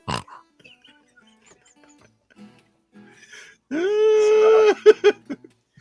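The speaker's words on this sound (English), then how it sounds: "Freaking love that pig, man." A pig grunts and squeals in a loud, close burst of several seconds, followed by a few shorter oinks, after quiet background with faint scattered sounds.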